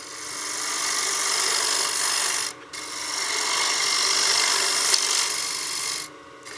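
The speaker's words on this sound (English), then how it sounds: "We can go ahead and turn the lathe on." A wood lathe spinning at about 1300 RPM turns a coin box, giving a steady, loud rasping whir of wood against tool that dips briefly twice.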